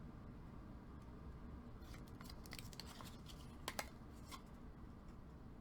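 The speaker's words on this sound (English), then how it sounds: "So I'm just going to slightly trim a little bit off of the ends" Scissors trimming the long ends of a short chipboard piece in a papercraft project, a few quiet snips clustered near the middle, faint and close over a steady background hiss, no talking.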